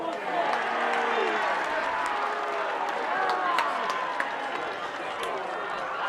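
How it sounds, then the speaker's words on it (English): The crowd at a schoolboys' First XV rugby match between New Plymouth Boys' High and Hamilton Boys' High roars steadily from the far side of the ground, with shouts rising over a constant wash of noise and some talk nearby. "you can tell by the noise of the crowd on the far side that they were happy about the mistake"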